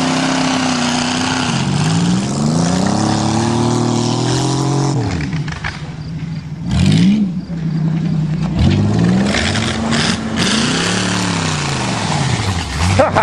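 Cars at a demolition derby revving their engines hard, loud rising and falling roars with repeated throttle swells and a brief burst of crowd noise, heard up close.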